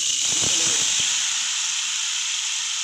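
Taro stolons hit hot oil in a frying pan, and a loud, steady sizzling hiss carries on close throughout, with a few soft clinks at the start.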